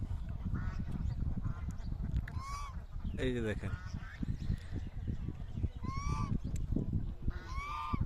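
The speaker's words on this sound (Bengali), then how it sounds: "দেখেন হাঁসের ডাক কি সুন্দর দেখছেন" Ducks quack repeatedly in loud, bursting calls close by, over a noisy outdoor background, with a person speaking briefly in between.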